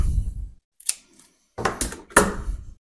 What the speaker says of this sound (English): Double tape.